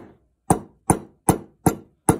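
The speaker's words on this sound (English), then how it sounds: "I want to see what else I can do with a hammer" Hammer strikes pound a metal part during a homemade dial-gauge setup for finding top dead center, five sharp evenly spaced blows, loud and close with quick decay.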